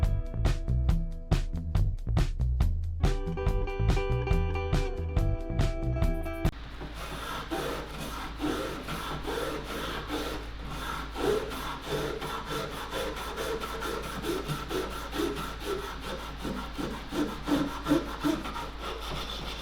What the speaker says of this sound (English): Then I was back to scraping in some of the smaller, tighter corner areas.